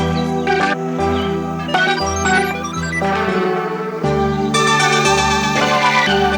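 An arpeggiator fill on a major seventh chord rolls out quick bright synth notes over sustained chords and a deep bass, loud and rhythmic with no voices.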